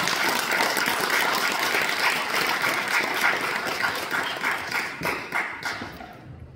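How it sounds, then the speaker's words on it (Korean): An audience claps to welcome a speaker at a church symposium: dense, sustained applause from a crowd that thins and fades near the end. "나오실 때 우리 힘찬 박수 부탁드립니다."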